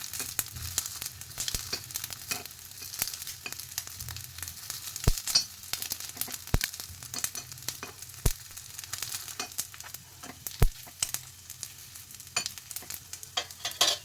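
Fasting appe frying in an appe pan on low flame, a soft continuous sizzle with occasional sharp clicks of turning, close and steady without talk.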